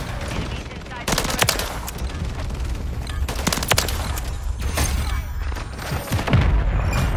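Gunfire in Modern Warfare 3 multiplayer: bursts of rapid automatic shots and heavy booms from a grenade explosion, loud and close, with brief voice lines mixed in.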